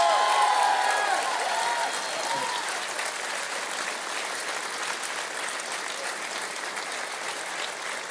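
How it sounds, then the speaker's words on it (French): A crowd at a political rally applauds health professionals, with a burst of clapping and a few cheers at the start that settles into steady, moderately loud applause. "Je voudrais ici que vous puissiez les applaudir partout sur le territoire"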